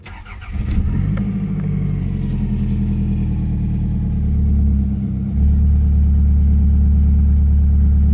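A Toyota car engine runs with the hood up and has a bad exhaust leak, giving a loud, steady low rumble that swells slightly midway, with no one talking.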